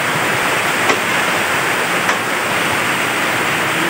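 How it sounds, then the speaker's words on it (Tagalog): River water rushes in a steady, loud, broadband roar during typhoon rain in Agusan del Norte, constant and close with only faint brief ticks in the wash and no voices. "So ayan, yung tubig sa ilog mga kalab."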